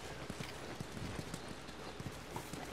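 Horse hooves clip-clop in the video game The Last of Us, a steady run of soft, evenly spaced hoofbeats set in a faint, continuous background hush without speech.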